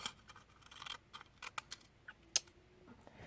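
Scissors snipping paper flower petals, a quiet, close series of irregular small clicks and crisp cuts with brief pauses, over a low room hum.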